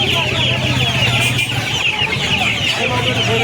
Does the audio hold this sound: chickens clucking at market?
yes